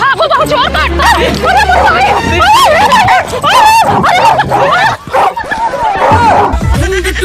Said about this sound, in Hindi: दीदी कुत्ता आ रहा है पता नहीं किसका